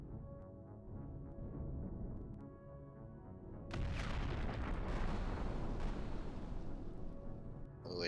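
Rockets firing in the space game Empyrion: a sudden loud, roaring burst of launch noise kicks in midway over a humming ship ambience and stays sustained and dense to the end.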